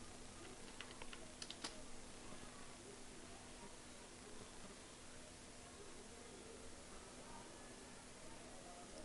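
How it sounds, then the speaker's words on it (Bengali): Someone types on a computer keyboard: a quick burst of light key clicks early on, then quieter tapping under a steady background hiss. "এখানে আমরা যদি learnenglish24.com অর্থাৎ আমাদের যে ডোমেইন নেম সেটি দিয়ে আমরা যদি এন্টার প্রেস করি"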